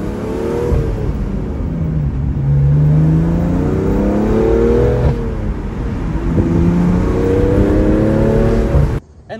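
A BMW M2 CS with a loud aftermarket exhaust revs repeatedly, its deep engine note rising and falling through barking climbs that fill the air continuously before cutting off abruptly at the end.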